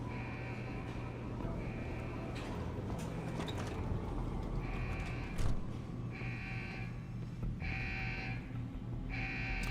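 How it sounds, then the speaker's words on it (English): An alarm sounds in the Deus Ex: Human Revolution video game, repeating steady electronic tone bursts at regular intervals over a low background hum. "I don't care if the alarms are sounding."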